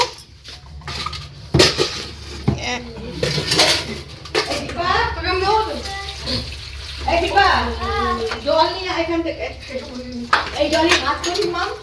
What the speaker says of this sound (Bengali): তো এটা এখন এই ছোটো বাটির মধ্যে ঢেলে নেব।